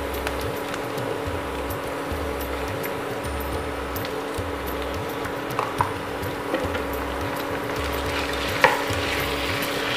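Chicken pieces frying with finely chopped onion in a pan for pasta: a continuous close sizzle under rhythmic scraping and stirring strokes, with a steady electrical hum and occasional clinks, no voices.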